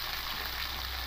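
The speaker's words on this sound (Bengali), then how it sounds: "এবার আলুগুলোকে একটু তেলের সঙ্গে হালকা করে লাল লাল করে ভেজে নেব।" Potatoes fry in oil in a pan for a Bengali silver carp and potato curry, giving a steady, soft, even hiss of sizzling throughout with no talking.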